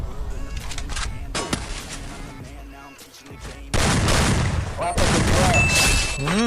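Shotgun blasts from an M014 in a mobile shooter game come in loud bursts, with sharp reports early on and dense, sustained gunfire taking over the second half, mixed with game sounds and music.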